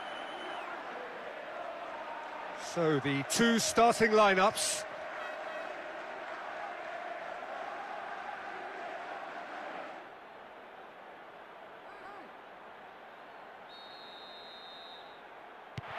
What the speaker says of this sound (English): The crowd wait to offer them a red-hot welcome.